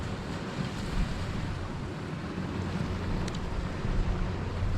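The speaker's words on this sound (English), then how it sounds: "This easterly wind is misbehaving again." Gusty easterly wind buffets a seashore fishing spot at Nells Point, Barry Island, a steady broadband rush of wind noise mixed with distant surf, rising slightly toward the end, with no talking.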